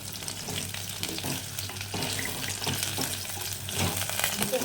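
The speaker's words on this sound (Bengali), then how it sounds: "আলু আর সোয়াবিন একটু ভাজা ভাজা হবে" Diced potatoes and soybean chunks frying in oil in a pan for oats khichdi, giving a steady, close sizzle with some scraping and stirring throughout and no voices.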